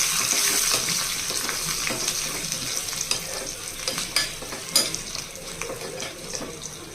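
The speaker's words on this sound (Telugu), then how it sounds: "ఇలా బాగా వేగిన తర్వాత ఇప్పుడు కొంచెం కరివేపాకు వేసుకోవాలి" Cumin and other spices with curry leaves fry in oil for a dal tempering, a soft steady sizzle with scattered spoon scrapes and taps against the pan, no voices.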